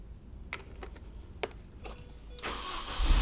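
A MINI Cooper R50-era hatchback starts up after a topside oil change, with a few sharp clicks and thumps before the engine catches and settles into a loud, close running rumble.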